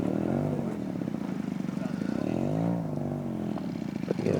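A model Focke-Wulf FW-190 A-5 plane with a Zenoah GT80 twin-cylinder engine runs close by, its steady buzzing drone rising and falling in pitch with throttle changes, while a voice talks over it.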